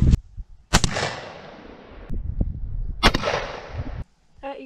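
Two sharp, loud shotgun blasts from a Stevens 301 single-shot, 20 gauge or .410, fired at a target outdoors, each followed by a long decaying echo, with brief talk at the very end.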